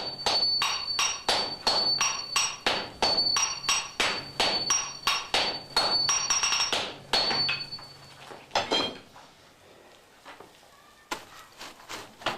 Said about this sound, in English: small hammer tells his disciples wielding the large hammers how hard and fast they should hit the steel